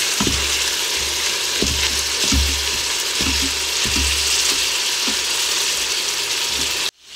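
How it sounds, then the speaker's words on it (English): Ground beef browning in an Instant Pot, a loud constant sizzle broken by regular scraping strokes of a spoon against the pot, close and steady, with no talking, ending abruptly. "So the first thing I'm doing is browning up this ground beef."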